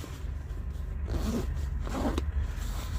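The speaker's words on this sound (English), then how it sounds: "Double zipper." A double zipper on a backpack with mesh side netting and large pockets is pulled open in two rasping strokes around one and two seconds in, close up over a steady low outdoor rumble of traffic near a highway.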